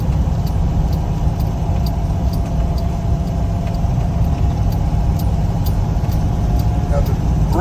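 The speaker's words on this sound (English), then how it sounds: "Even in 3rd gear, I can continue to accelerate." A 1976 Toyota FJ40 with a 2F engine pulling uphill in third gear at around 30 mph on a steep grade, giving a steady, loud, continuous drone of engine and road noise with no letup.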